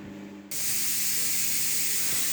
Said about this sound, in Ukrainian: Заливаємо воду, чуємо, як повітря шипить.